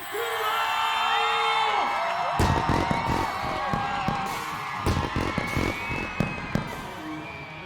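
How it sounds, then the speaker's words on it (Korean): Crowd at a Coca-Cola summer stage show cheers and whoops as the artists UV and Park Bo-gum are welcomed, loud dense roar with sharp bursts of clapping and shouts throughout. "이 시대 최고의 아티스트 유부를 큰 박수로 맞이해 주세요"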